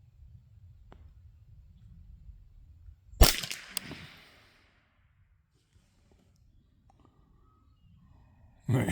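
A single sharp crack from a CZ 512 .22 LR semi-automatic rifle fired at an outdoor target, loud and close, followed by a brief echo and then near silence.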